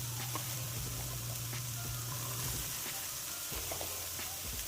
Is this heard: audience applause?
no